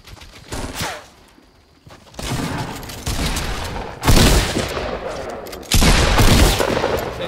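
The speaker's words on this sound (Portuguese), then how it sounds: "tu viste o tiro que eu dei-lhe mesmo, close range?" Gunfire in the video game Fortnite, a close-range fight with repeated bursts of shots and loud booms. The shots come in clustered volleys with short quiet gaps, loud and near, and no speech can be heard.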